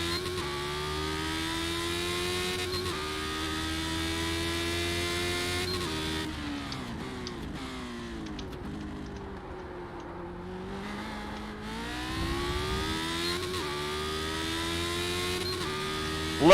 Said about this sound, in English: Love the sound of these old cars.